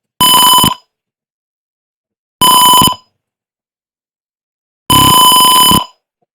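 A feed stock monitor's buzzer sounds three loud, sharp electronic alarm beeps, each about half a second long, separated by roughly two seconds of silence, with no talking.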